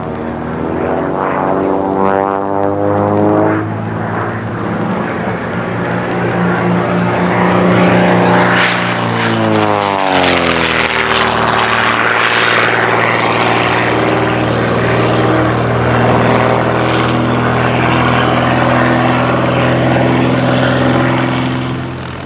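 Vintage propeller airplane flying aerobatic manoeuvres, its engine drone loud and steady with pitch rising and falling as it climbs, dives and passes close overhead, heard alone without talk.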